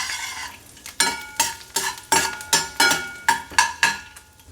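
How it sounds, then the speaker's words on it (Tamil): Cashew nuts sauté in ghee over a medium flame, a soft sizzle under a rhythmic series of about ten sharp spoon-against-pan stirring scrapes, close and loud, with no talking. "லைட்டாக பொன்னிறமாக வதக்கணும் கேஷ்யூ நட்ஸை. ஸோ மீடியம் ஃப்ளேம்லேயே வச்சு வதக்கணும்,"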